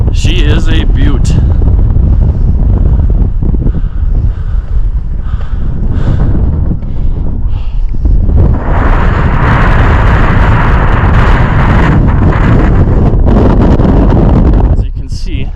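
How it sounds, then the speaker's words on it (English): Strong wind on the Mount Elbert summit in Colorado buffets the microphone in loud, roaring gusts that rise and fall, swelling sharply toward the end. "As you can see, it's very, very windy up here."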